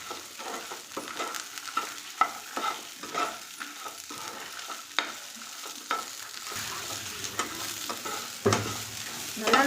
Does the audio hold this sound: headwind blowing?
no